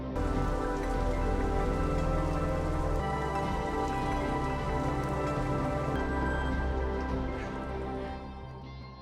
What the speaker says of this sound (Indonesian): Tak berselang lama, hujan pun turun